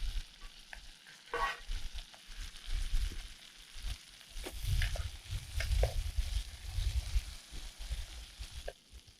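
Chunks of corned beef fry and sizzle in a pan at a wild camping spot, with steady hissing under repeated scraping and stirring strokes close by.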